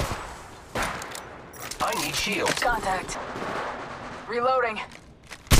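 Bursts of automatic gunfire crackle through a match of the Apex Legends Mobile video game, dense and loud, while a game character's voice calls out over the shooting.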